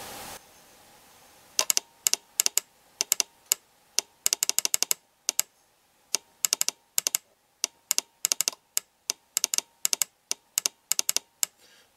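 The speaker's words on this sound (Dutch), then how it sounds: "Ik heb geen piepertje aangesloten, maar deze heeft een luide sleutelklik." A Morse telegraph key with no beeper attached gives loud, sharp mechanical clicks, up close and alone, in an irregular, code-like rhythm of quick taps and short pauses after a second of quiet.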